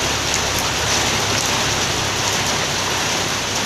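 Steady, heavy rain pours down outdoors during a Thai fishing contest for climbing perch, a dense continuous hiss filling the whole stretch at close range with no voices.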